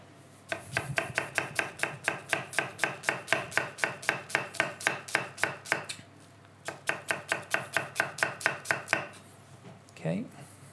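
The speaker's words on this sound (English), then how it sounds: "just get the onion as fine as possible" Rapid, steady knife chopping of an onion on a board, close and loud, a long run of crisp regular strokes, a short pause, then another quick burst, all without talk.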